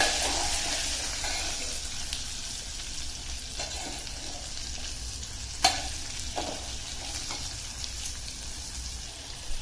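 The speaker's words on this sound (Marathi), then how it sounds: "आपण हे छान असं मिक्स करून घेऊया" Raw mango pieces with turmeric and chili powder are stirred in a pan, giving a continuous wet, crackly scraping close by, broken by a few sharper clicks of the spoon against the pan.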